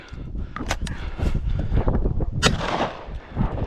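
Gunshots on a wild boar hunt in the Bafra countryside, heard as several sharp, fairly loud cracks over rustling and outdoor noise.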